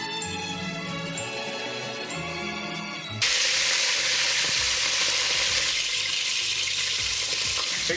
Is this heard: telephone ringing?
no